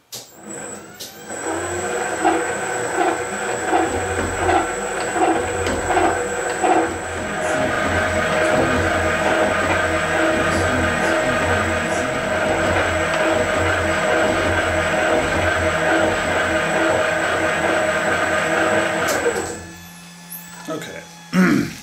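A metal shaper taking an interrupted cut, a steady loud mechanical drone with rhythmic knocking strokes that continues for most of the clip, then stops near the end.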